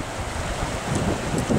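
The Arkansas River at Granite, Colorado, a fast mountain river with pocket water, rushing in a steady broadband roar, close, with some wind noise.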